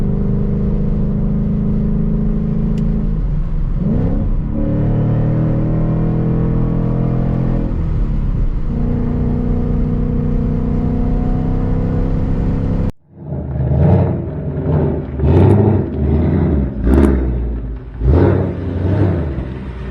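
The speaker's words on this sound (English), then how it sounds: "Because that's all we want to hear is this beautiful exhaust." A Ford Mustang with a resonator delete and X-pipe rumbles steadily and loudly at idle, its deep drone briefly cut before the engine barks back with a series of sharp revs and throaty pulses up close.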